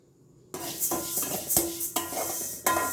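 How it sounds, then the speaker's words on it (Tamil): Moong dal dry roasting in a metal pan, grains rattling and clinking as they are stirred, with a few sharper scrapes and taps against the pan over a steady sizzling hiss. "இந்த ஒரு டம்ளர் பாசிப்பயிறு எடுத்து அதை நல்லா செவக்க வறுத்துக்கணும்."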